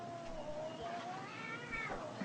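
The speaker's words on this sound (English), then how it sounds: "That's the cat making all the noise, isn't it?" A cat lets out a long, drawn-out, wavering meow that rises into a strained caterwaul, faint and somewhat distant over a quiet background hiss.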